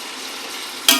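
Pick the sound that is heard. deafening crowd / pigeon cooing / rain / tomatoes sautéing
tomatoes sautéing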